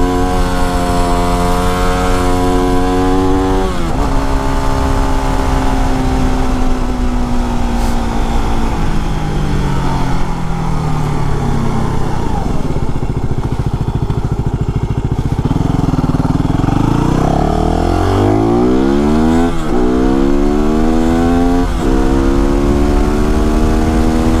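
WR motorcycle engine running strongly while being ridden, a loud close drone that rises and falls through gear changes with wind noise throughout and no talking.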